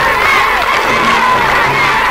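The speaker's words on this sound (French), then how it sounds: "Une foule bardée de drapeaux et de banderoles a défilé jusqu'à l'immeuble du Néo-Destour pour y acclamer le président Bourguiba." A large crowd of demonstrators waving flags and banners cheers during a march in Tunis to the Néo-Destour building to acclaim President Bourguiba, producing a loud, dense, continuous roar of shouts and whoops.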